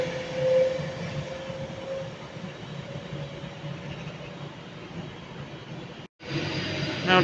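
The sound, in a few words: Avanti West Coast train departing Milton Keynes Central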